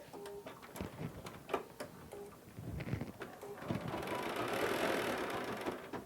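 A Bernina 770 sewing machine stitching an embroidery design, starting with scattered ticks and clicks and then settling into a steady, fast mechanical whir that continues to the end, close and moderately quiet.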